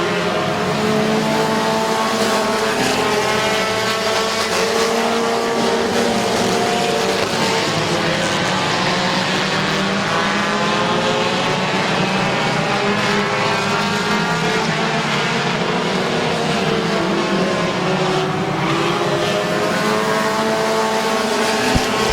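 Race cars roaring around the Midvale Speedway oval, a loud continuous engine drone with rising and falling pitch as cars pass, alone without talk.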